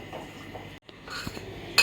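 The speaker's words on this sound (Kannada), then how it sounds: "ಒಂದ್ಸತಿ ಎಲ್ಲಾನು ಒಂದು ಒಳ್ಳೆ ಮಿಕ್ಸ್ ಕೊಟ್ಬಿಡೋಣ" A spoon stirs chicken in a single cooking pot, with close scraping and metallic clinks, a short silent break, then more clattering stirs and a sharp clink at the end.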